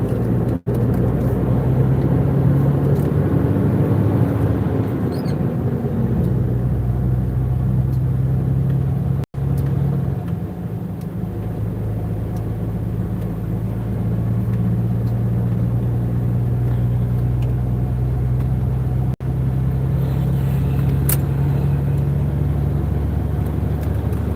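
A steady, loud low engine drone from inside the cab of a truck hauling crushed stone on an Odesa-region road, unbroken apart from a few brief clicks.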